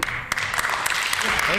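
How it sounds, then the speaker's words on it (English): Colleagues applaud in a legislative chamber, a burst of scattered desk-thumping and clapping with sharp irregular hits, close and fairly loud, with a voice briefly present. "I appreciate the applause from my colleagues"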